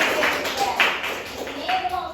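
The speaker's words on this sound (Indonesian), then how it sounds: "tepuk tangan semuanya." A class of primary-school pupils claps hands in a short burst of scattered, uneven claps, close by and lively, lasting a couple of seconds.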